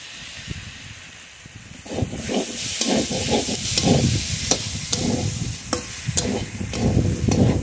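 Ground spice paste hitting hot oil in a frying fish curry pan, a loud steady sizzle and hiss with repeated close scraping stirs at a fairly regular rhythm.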